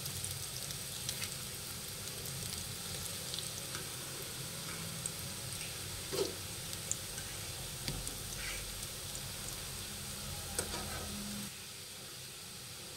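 Coriander fritters (kothimbir vadi) shallow-frying in a pan, giving a steady soft sizzle throughout with a few faint ticks and stirring touches, no talk.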